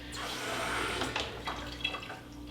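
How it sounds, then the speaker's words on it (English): Hot water pours steadily from an InSinkErator instant hot water faucet into a sink, a close, hissing splash with a few small bursts and no talking. "The unit is working, producing the hot water as we expected."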